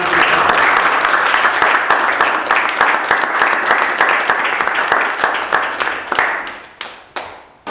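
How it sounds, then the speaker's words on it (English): Audience applause for students at a museum of iron, a dense, loud, sustained clapping that holds steady for several seconds before thinning into scattered final claps. "you should all give yourselves a big round of applause"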